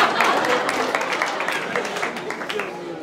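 Audience applause in a university lecture hall during a talk session, a dense spread of clapping from many hands that gradually fades, with a speaking voice over it.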